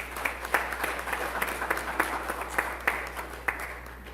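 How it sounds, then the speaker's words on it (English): Hand clapping from a church congregation at an Anglican graduation Sunday service, fairly faint and steady with distinct individual claps standing out over a low hum. "Please give a hand clap to them."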